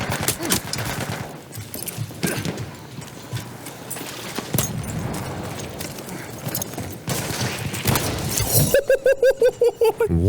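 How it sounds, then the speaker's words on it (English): Video game gunfire from a pistol in a busy shooter scene, sharp shots over a dense clatter of effects, ending in a rapid burst of evenly spaced reports. "One-shot bullet from that pistol."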